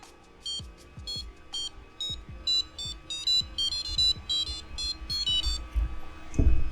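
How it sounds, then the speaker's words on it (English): A small electronic buzzer on a Hackerbox 0057 electronics badge plays a beeping melody, a quick sequence of short high-pitched tones with gaps between notes, ending in a muffled thump. "So it's a little buzzer demo."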